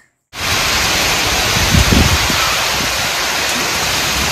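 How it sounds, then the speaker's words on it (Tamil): Heavy rain pours down in a village, starting abruptly and then holding as a dense, loud, even hiss that stays constant to the end, with no talking. "இங்கே பாருங்கள், எங்கள் ஊரில் எவ்வளோ மழை, சரியான மழைங்க."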